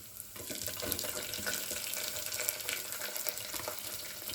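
Onion goes into hot oil and fries for mint vegetable rice, giving a dense, close hiss and crackle with light stirring scrapes throughout. No voices are heard.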